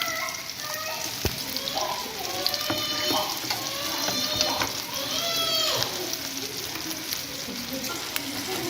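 Beef shami kebabs frying in hot oil give a steady, close sizzle and crackle for the whole stretch, with occasional scraping and stirring sounds mixed in.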